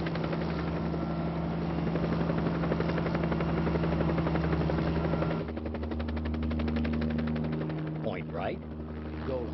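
Mini-500 light helicopter in flight, its rotor and engine producing a loud, steady whirring drone with a rapid chopping pulse throughout, slightly shifting in tone partway through.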